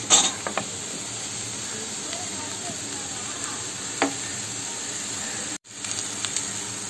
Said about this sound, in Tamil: நம்ம எல்லா பொருளும் ஃப்ரை ஆகிடுச்சு